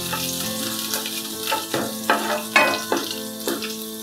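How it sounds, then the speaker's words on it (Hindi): Five or six garlic cloves fry in lightly heated oil, a steady close sizzle with a series of sharper stirring scrapes and spatters, no talking. "इसको थोड़ा सा फ्राई कर लेंगे।"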